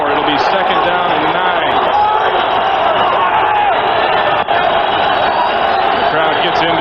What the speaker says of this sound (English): The crowd gets into it.